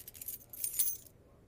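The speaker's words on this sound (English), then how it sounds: "Keys to your new car." Car keys jangle close up in one short metallic shake that rings briefly and then stops.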